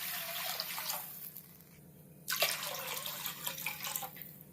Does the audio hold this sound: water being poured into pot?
yes